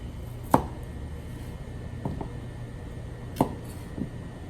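A knife cuts a carrot into bite-size pieces on a cutting board, giving a few separate sharp chops spaced a second or more apart over a low, quiet room hum.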